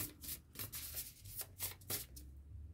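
Tarot cards are shuffled in a few quick riffling bursts, close and soft, with short pauses between them.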